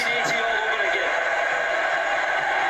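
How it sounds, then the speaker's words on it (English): A dense, roaring football crowd at the Scottish Cup final fills the whole stretch, with a brief high horse whinny cutting through near the start. "Oh, they're bringing in the horses."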